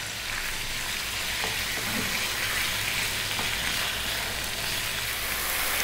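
About 500 grams of lamb frying over medium heat in a pan while being stirred, a loud, steady, close sizzle that crackles on throughout with no talking.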